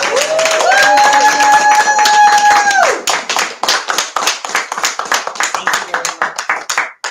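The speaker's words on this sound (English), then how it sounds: "Let's give one more round of applause" Audience applause at a children's book event, with dense clapping from a room of listeners that rises briefly under a voice calling out, then breaks into scattered, thinning claps before fading.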